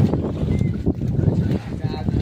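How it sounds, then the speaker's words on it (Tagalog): Strong wind buffets a small fishing boat at sea, a gusty rushing roar that rises and falls over the whole stretch, with people talking and exclaiming underneath. "Oh my goodness, ang lakas ang hangin."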